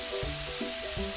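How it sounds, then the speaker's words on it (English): Steady sizzling and bubbling of salted butter in a hot pan of caramel for a banana and blueberry tarte tatin, close up, with no talking. "Let it sizzle, let it merge, let it get a beautiful rich sauce in the making."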